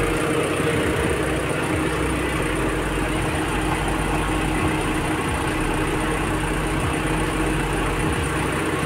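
A Toyota Hi-Ace engine with a clutch fan runs steadily, a continuous mid-pitched idle with a faint rhythmic knock and vibration, close and even throughout with no talking.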